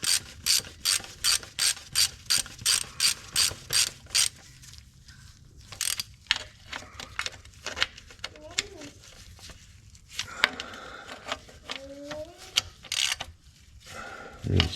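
A hand ratchet clicks in quick repeated strokes while bolts on a TH350 transmission are snugged down, first in a steady rhythmic run, then in shorter bursts, with brief talking and a voice in between.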